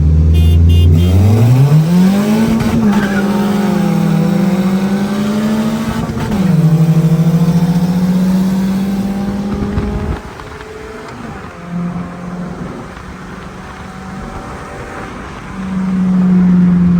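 Suzuki FX and Swift GTI cars, both 1500cc, accelerate hard in a street race, engines revving up through rising gear pulls with a brief shift dip, then settling into a steady loud drone with later surges.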